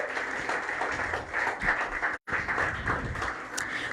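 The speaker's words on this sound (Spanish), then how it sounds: "Dele un aplauso al Señor" A church congregation applauding, a dense, steady roar of many hands clapping together that breaks off briefly near the middle and then resumes.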